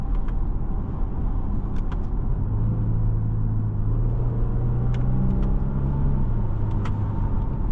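A 2017 Genesis G80 with the 3.8 engine and 93,000 miles, driving steadily with a continuous low engine and road rumble, a deeper tone swelling in the middle, with no talking.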